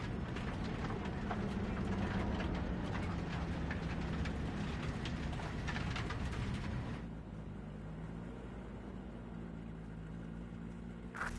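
A train moves through the Cyberpunk 2077 video game, a continuous rattling, clattering rumble of rolling wheels that runs steadily, then shifts to a smoother, quieter hum partway through. It is faint overall, and no one speaks.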